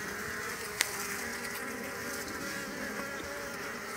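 A steady, dense buzzing of many slightly agitated honey bees at a hive, continuous and fairly close, with a faint click or two.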